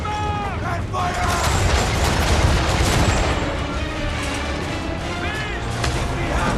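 Ship cannons firing in Assassin's Creed III during a naval battle, heavy repeated booms and crackling blasts layered over a dense roar of battle, with shouted voices mixed in.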